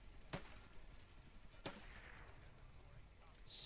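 Sniper rifle fire in the blocky online shooter Block N Load: two sharp, distant-sounding shots about a second and a half apart over quiet game ambience, followed by a brief rise in noise at the end.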